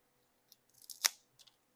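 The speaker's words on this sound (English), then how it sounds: "They snap like a chip." A crisp snap as a seasoned baked cucumber chip is broken by hand, one sharp crack preceded by faint crinkles and followed by a couple of small ticks, close and otherwise quiet.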